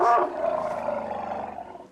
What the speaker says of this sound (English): many different communications an elephant can make.